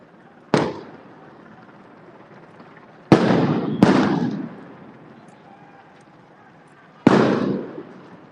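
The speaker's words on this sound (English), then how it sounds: "There's the tear gas." Police fire tear gas canisters at protesters on a street in DC: four sharp loud launch bangs, one early, then two close together and a last one, each trailing off over crowd and street noise.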